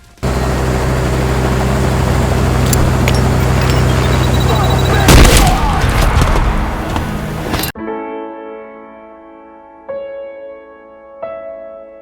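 Loud burst of gunfire and a heavy blast in the first-person shooter Trepang 2, a dense roar of combat noise that cuts off abruptly and gives way to quieter tonal game music with a few sharp hits.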